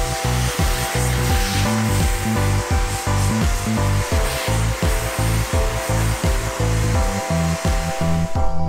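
Vacuum cleaner running steadily over a freshly steel-wooled lacquered wooden table between coats, a loud continuous motor whine with a pulsing, rhythmic thumping underneath as the nozzle is worked back and forth across the surface.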